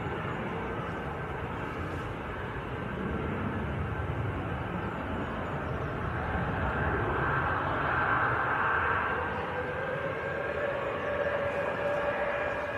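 A Qatar Airways Boeing Dreamliner at Manchester Airport gives a faint, distant jet engine drone with a soft whine, swelling slightly midway and staying low and steady throughout.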